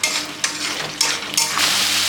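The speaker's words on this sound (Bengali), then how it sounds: "এখন দিয়ে দেবো হচ্ছে হলুদের গুঁড়ো, এটাও হালকা ভেজে নিব" Turmeric powder frying lightly in a pan for a paneer masala, a steady close sizzle with a few soft stirring scrapes and small bursts, no voices.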